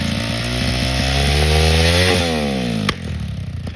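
A motorcycle engine revs hard and then drops off, punctuated by a single sharp exhaust pop near the end.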